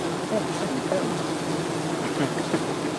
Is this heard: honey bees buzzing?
yes